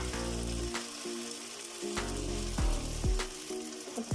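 Chopped green chillies hit a hot tadka for sarson ka saag and sizzle loudly and steadily, with a few sharper crackling bursts over the continuous frying hiss.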